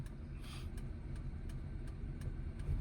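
A manual car's engine runs at a steady low idle during a first-day driving lesson while the clutch is pressed to engage first gear, a continuous rumble heard up close with faint clicks above it.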